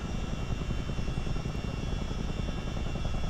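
Loud, steady rotor and engine roar filling a CH-47 Chinook helicopter cabin, a dense low-frequency drone with constant throbbing and no voices.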